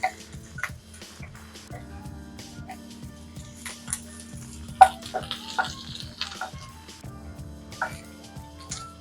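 Peppers soften in a single pan on the stove, giving a quiet, steady sizzle with light ticking and occasional clinks and scrapes, fairly close and soft.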